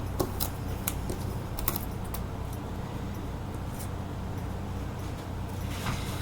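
Scissors or a trimmer snip through material for a mixed media masterboard, giving irregular sharp clicks and cuts over a quiet, steady background hum, with no talking.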